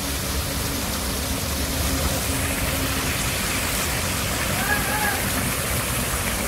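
Water features running in a landscaped outdoor park of ancient-style buildings and gardens, giving a steady broadband rush like falling or splashing water that fills the whole stretch evenly at moderate level, with no clear voice.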